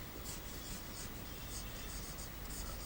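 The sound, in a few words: writing during a lecture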